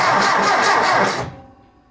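The mid-pitched engine of a 1964 Ford 4000 Rowcrop tractor cranks on the starter, out of gear, and turns over for about a second, then cuts off and fades into quiet.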